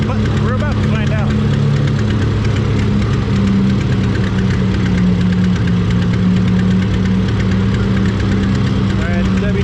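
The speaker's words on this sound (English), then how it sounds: "I don't think I got that kind of oomph in this tractor today" Pulling tractor engine running hard at a fall nationals tractor pull, a loud continuous low roar with steady harmonic drone throughout, announcer-style talk over it.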